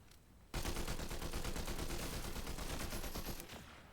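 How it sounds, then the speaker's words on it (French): Rapid automatic gunfire in the Fortnite video game erupts after a brief quiet moment and continues as a dense, loud, sustained burst of shots for several seconds before easing slightly. "je me prends des balles"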